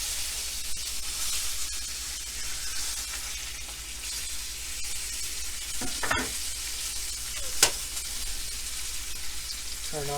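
A tomahawk beef ribeye steak, a bone-in ribeye with a long handle, sears in a pan with a steady, loud, close sizzle that runs the whole time, broken by a couple of brief sharp pops near the end.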